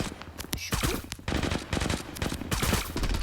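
Rapid bursts of automatic gunfire in the mobile shooter Zula Mobile, a ship map match, firing in quick fusillades with brief gaps, loud and close, with faint footsteps between volleys.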